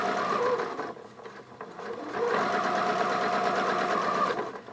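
A sewing machine with a zipper foot stitches around piping cord on a cushion, a steady close mechanical whir with rapid needle chatter that dips briefly and then runs on evenly.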